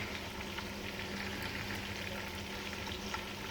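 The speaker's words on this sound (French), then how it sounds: "Je vais couvrir un petit peu et puis on va faire mijoter ça tranquillement." Small potatoes simmer in sauce in a sauté pan, giving a steady, even sizzle and soft bubbling that stays level throughout, close and alone with no talk.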